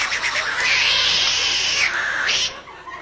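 A voice imitates a snoring brother who sounds like a cat in heat, producing a loud, strained, continuous yowling wail that dips briefly near the end.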